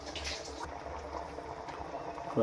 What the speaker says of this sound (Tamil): நல்லா கொதி வந்துடுச்சு. இப்போ நம்ம அரிசி போட போகிறோம்.